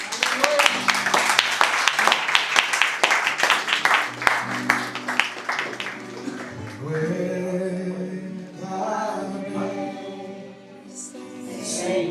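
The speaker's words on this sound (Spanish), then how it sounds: "Un fuerte aplauso para el Señor." Congregation at a church service claps loudly in a dense burst for about six seconds, then the applause fades under sustained music and singing.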